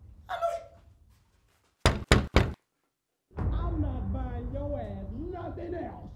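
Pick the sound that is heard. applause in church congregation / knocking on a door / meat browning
knocking on a door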